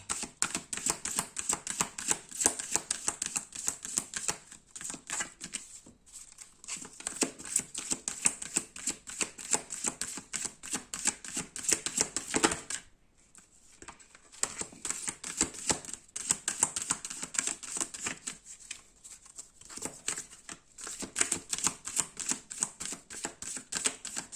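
Tarot cards shuffled by hand, a dense run of quick papery riffles and flicks in bursts, close and clear, with one short pause midway.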